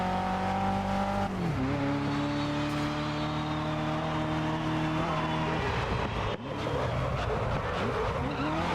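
Ford GT race cars from GRID (2019) roar together, engines holding steady high-pitched notes before shifting down, with tires squealing and skidding over a dense, loud engine drone.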